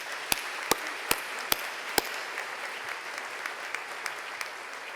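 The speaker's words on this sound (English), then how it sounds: "Let's give them a round of applause." Moderate applause from an audience at a university fall convocation, with a few sharp, loud claps near the microphone early on over a softer, steady bed of clapping from the crowd.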